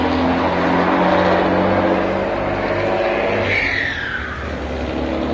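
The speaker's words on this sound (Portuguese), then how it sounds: "Deixa passar esse caminhão turbinado." A turbocharged water tanker truck passes close by, its loud, steady engine roar and whir holding throughout before easing slightly toward the end, with no talk over it.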